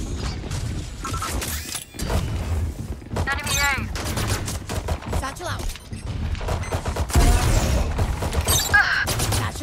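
Automated turret in a video game firing dense bursts of rapid gunfire, mixed with mechanical clanks and other game sounds, loud and continuous throughout.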